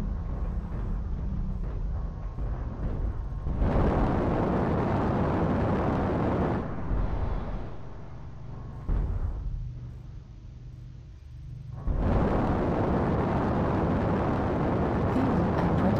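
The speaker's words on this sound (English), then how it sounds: "Artillery strike online." Heavy rumbling artillery strike explosions in a video game, sustained loud roaring blasts that swell, dip and return in long waves across the stretch, with no voices.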